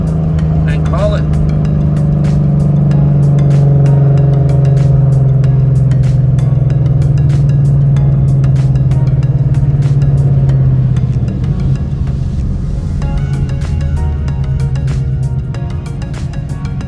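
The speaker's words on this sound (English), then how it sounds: "Gotta pull over, let the car idle for 2 minutes" A Ford Mustang GT with a 5.0 engine idles at the roadside, giving a loud, steady low rumble that holds constant, then eases slightly and becomes rougher toward the end, with faint clicks over it.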